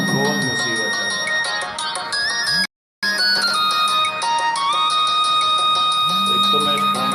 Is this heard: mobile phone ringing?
yes